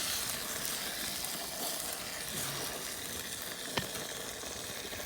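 Butter sizzles and crackles steadily on a Cajun Classic hibachi grill while buffalo sauce is mixed in, a close, continuous frying hiss with one brief sharp tap partway through.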